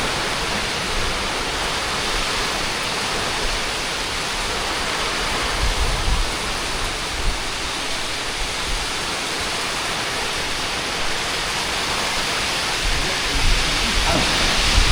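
A dense, unbroken roar of heavy monsoon rain in Konkan fills the whole stretch, steady and loud, with gusty swells of wind blowing from all sides.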